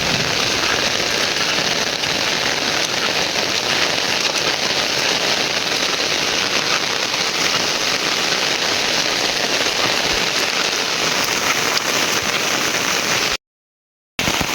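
Rain pours steadily on a village beside rice fields, a dense, loud hiss of drops on surfaces that continues unbroken before a brief cutout near the end.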